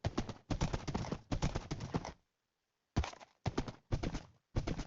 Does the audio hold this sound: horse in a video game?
yes